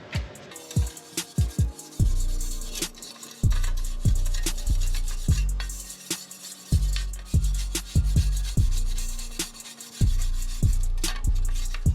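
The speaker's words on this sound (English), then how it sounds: "Take the metal brush, go ahead and agitate that bad boy." Repeated scraping and rubbing strokes of a wire brush against metal on a C4 Corvette with a 5.3 swap, close up, with uneven rhythm and occasional thumps, no voices.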